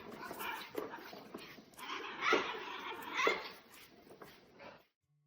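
A dog whimpers and yips in a string of high, strained cries, loud and close, apparently set off by a vacuum cleaner, with some background noise between the calls.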